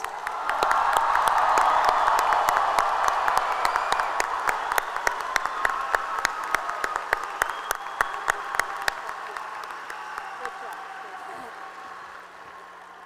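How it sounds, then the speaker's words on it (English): Applause from a graduation audience at University High School for the faculty and staff, a dense crowd clapping that starts full, then thins and fades over several seconds, with a few sharp individual claps standing out. "So let's give them a big round of applause."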